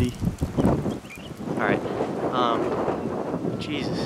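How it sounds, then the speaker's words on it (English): Strong gusts of wind buffet the microphone with low rumbling roar while someone speaks briefly over it. "It's really windy."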